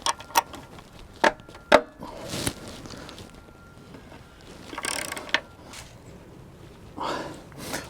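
A wrench with a 12 mm socket on an extension removes a bolt from a Yamaha outboard: several sharp, close ratcheting clicks and metallic knocks in short bursts, separated by quieter handling.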